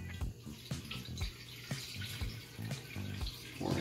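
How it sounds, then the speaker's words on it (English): Kombucha poured through a strainer into bottles, a steady liquid splash and trickle with small clinks and drips close by, running continuously without talk. "I will just now pour this into here, catch a bunch of that fruit"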